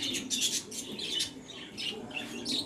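Fancy pigeons, American Fantails, call at a pigeon farm in a series of soft chirps and squawks, faint and irregular, with no voices.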